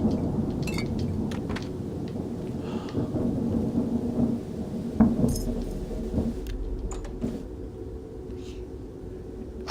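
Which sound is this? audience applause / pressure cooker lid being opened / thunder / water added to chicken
thunder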